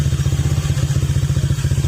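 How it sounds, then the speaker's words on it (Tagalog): A motorcycle engine idles close by after an engine rattle was repaired, its loud exhaust giving a rapid, even thumping pulse with a slight clattery edge, steady for the whole stretch. "Ayan, wala na yung kalampag. Kaso malakas na yung tambutso niya mga sir."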